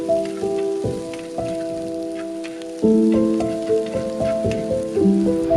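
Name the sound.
shallots and green chillies sautéing in a pan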